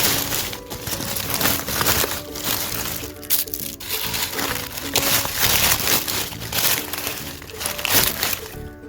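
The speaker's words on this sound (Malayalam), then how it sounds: "ഇതിൻ്റെ മുകളിലേക്ക് പുതയിട്ട് കൊടുക്കുകയാണ്. കരിയില തന്നെയാണ് നമ്മൾ ഇട്ട് കൊടുക്കുന്നത്." Dry fallen leaves are spread as mulch over a planted air potato, making continuous close crunching, crinkling and crackling with irregular louder snaps as handfuls are pressed down.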